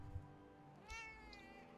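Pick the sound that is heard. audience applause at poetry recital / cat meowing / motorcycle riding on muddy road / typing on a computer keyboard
cat meowing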